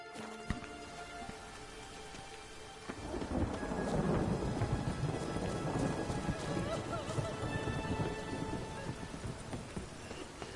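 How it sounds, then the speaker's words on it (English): Steady heavy rain pours in The Witcher 3 game world, with rolling thunder building from about three seconds in and rumbling on through the rest, loud and close with no talking. "Must be mad running around in this rain."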